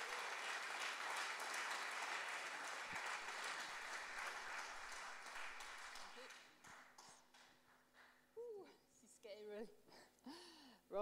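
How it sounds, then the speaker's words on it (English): A church congregation at a baptism service claps for Maria, with broad applause for about six seconds that thins out, and then a voice speaks over the fading claps. "Let's give Maria a great round of applause."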